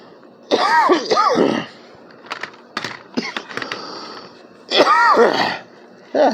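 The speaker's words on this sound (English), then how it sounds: "Sorry about the coughing." Several rough coughs and throat-clearing sounds, close and loud, in two clusters with quieter shuffling and clicks between them.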